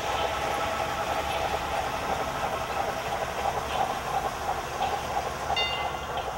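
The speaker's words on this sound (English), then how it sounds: "the Puritas Nursery model train display for the holidays" A model train runs on a holiday nursery display track, a steady continuous rumble and rolling clatter at moderate level with no talk.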